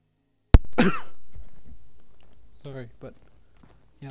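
A single sharp, loud cough bursts out close to the microphone during a Fallout 4 gaming session, followed by a fading tail and faint throat sounds, then a brief murmur of speech.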